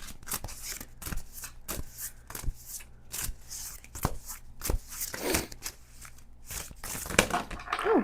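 A deck of oracle cards being shuffled by hand, a series of crisp riffling and slapping bursts close up in an uneven rhythm, each lasting a moment with short pauses between.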